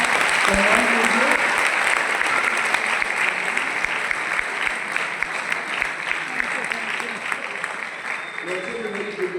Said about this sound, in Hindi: देवयानी बहन का जोरदार ताली से सम्मान कीजिए।